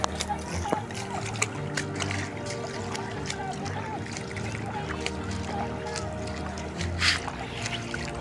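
Floodwater streams across a road near Joginder Chowki in rural Punjab, a steady rushing wash with occasional splashes, heard under a person talking.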